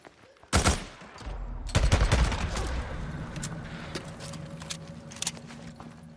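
Sharp bursts of submachine gun and pistol fire in the video game Days Gone, a loud volley near the start followed by a dense run of rapid shots that trail off into scattered single pops.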